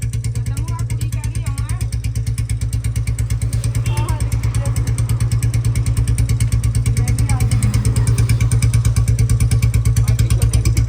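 A Royal Enfield Bullet motorcycle engine thumps at a close, steady idle, its heavy rhythmic beat loud and continuous throughout.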